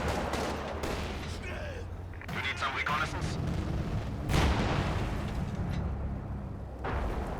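Heavy tank cannon fire as a Firefly and a Panther trade shots in Company of Heroes 2, with booming blasts and dense battle noise throughout, including other gunfire and explosions layered together.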